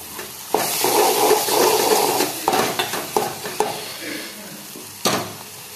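Thecha and crushed peanuts tossed into a hot pan and stirred, a loud close sizzle swelling at the start and then fading, punctuated by repeated scraping knocks of the spoon against the pan.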